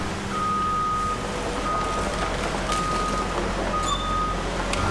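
A Rotochopper B66 grinder working alongside a CAT 320E excavator chopping wood, giving a steady heavy machine rumble and grinding noise, with a reversing beep tone repeating intermittently over the din.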